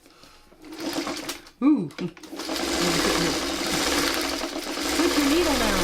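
A sewing machine stitching quilt blocks starts after a short pause and runs steadily and loudly, its motor hum continuing under a voice.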